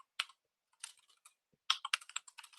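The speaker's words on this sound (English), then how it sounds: "I can start typing my query." Quiet computer keyboard typing a database query, with short bursts of keystrokes separated by pauses and a quicker run of clicks near the end, close and alone.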